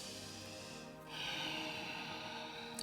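Ujjayi breathing during a yoga flow, a constricted, snoring-like breath drawn through the throat: a soft exhale followed by a longer, stronger rushing breath, close and quiet.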